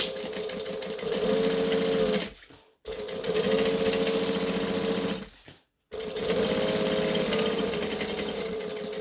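A sewing machine top stitches vinyl in three long, loud, steady whirring runs, each one stopping briefly before the motor starts up again, with no voices.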